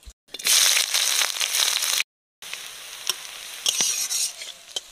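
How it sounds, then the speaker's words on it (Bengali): Chopped onion drops into hot mustard oil already holding whole cardamom, cloves, cinnamon and a dried chilli, bursting into a loud close sizzle with crackles and stirring scrapes, broken by a short silence before frying continues more quietly. "দিয়ে দিচ্ছি পেঁয়াজ কুচি"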